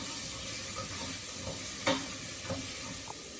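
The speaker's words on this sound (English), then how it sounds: "Now I'm going to add the carrots, because the carrots always take a little bit longer as well, just to get soft. So I'll stir those in as well." Carrots are stirred into a sizzling pan for a vegan soup, with a soft steady sizzle under a few scraping stirs and one sharper knock in the middle.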